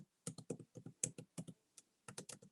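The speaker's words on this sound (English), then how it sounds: "I hear somebody typing" Keys on a computer keyboard are typed in quick irregular bursts during an online public commission meeting, close and clear with short pauses between clusters and no talking over it.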